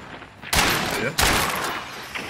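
Two sharp, loud rifle shots from a Levering rifle loaded with FMJ ammo in Hunt: Showdown, about half a second apart, each trailing off in a reverberant boom.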